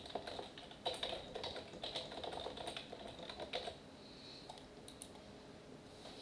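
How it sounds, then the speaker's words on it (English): Quick, uneven bursts of keystrokes on a computer keyboard as a path name is entered, close and fairly quiet, stopping after a few seconds into near silence. "type in the name of your path"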